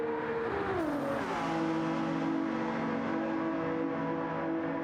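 Ferrari and Porsche race cars at Le Mans in the World Endurance Championship, engines howling loud and steady at high revs as they run flat out, pitch dipping slightly once, with no talk over them.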